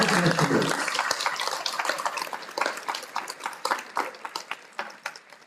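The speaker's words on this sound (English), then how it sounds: "please join me in applauding the next generation of business and industry professionals" An audience at a college signing-day ceremony applauds students on stage, with dense, loud clapping that starts abruptly and carries on steadily before thinning out slightly.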